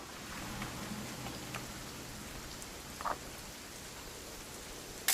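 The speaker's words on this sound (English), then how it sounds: "It's gonna rain the whole weekend, isn't it?" Soft, steady rain in the video game What Remains of Edith Finch patters quietly throughout, with a few scattered drips and faint croaking in the background, no voices.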